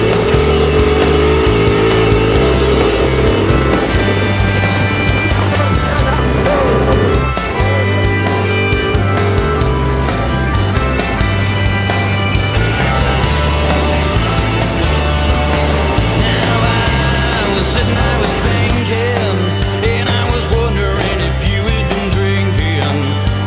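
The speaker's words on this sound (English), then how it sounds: "I'm riding my new best friend today, the Husaberg FE570." A 2009 Husaberg FE570 dirt bike engine while riding, a loud, continuous rough drone with pulsing revs and shifting pitch, close and unbroken for the whole stretch.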